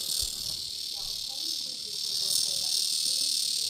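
Continuous high-pitched insect buzzing, likely a cicada, fills the background steadily and fairly close, with a faint low thump at the start and no talking.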